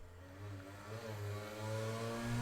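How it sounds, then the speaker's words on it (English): A loud motorcycle engine drones steadily and climbs gradually in pitch as it revs, close and alone without talk. "You just got a whole motorcycle in your fucking ears."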